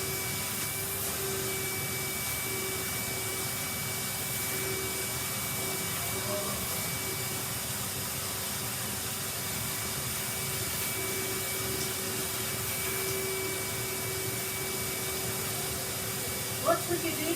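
A vacuum cleaner hoovers a Persian silk carpet with a steady, loud, unbroken drone and hiss, a constant tone running beneath it for the whole stretch.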